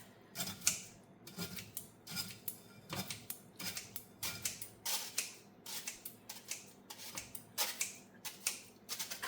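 Scissors cut through rice paper and fresh spring roll ingredients at home, giving a series of sharp, crisp snips in irregular bursts, close and fairly quiet, with no talking.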